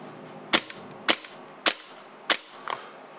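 Four sharp gunshots from an aluminum-bodied 6.0 gun fired in an evenly spaced sequence, each a loud crack with a short tail, plus a fainter fifth report near the end and no talking.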